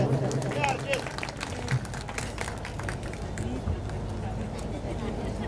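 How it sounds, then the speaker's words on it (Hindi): An audience claps at a Sanghavi family gathering for daughters and sisters, a dense patter of many hands sounding somewhat distant and steady, mixed with crowd murmur and a voice speaking over it. "जोरदार ताली बजा दो"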